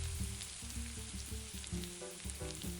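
Chopped garlic and tomatoes sizzle steadily in a pan on low-medium heat, a close, faint frying crackle with soft stirring scrapes and no talk.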